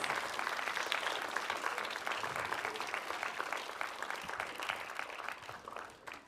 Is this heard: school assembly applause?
yes